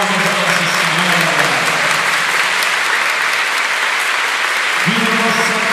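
Sustained loud applause from a crowd honouring Our Lady at a Miraculous Medal image ceremony in Monte Sião, Brazil, with an amplified voice calling out over the clapping near the start and end.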